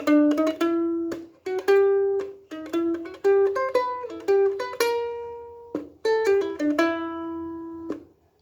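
A plucked ukulele picks out a tune, single notes and short strums ringing clearly in a steady rhythm, played alone.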